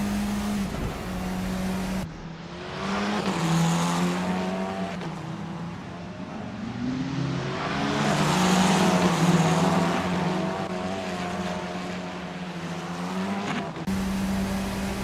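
Formula 4 race cars in Assetto Corsa at Townsville scream past with rising and falling engine notes, gear changes, and a strong pass-by swell near the middle, loud and close throughout.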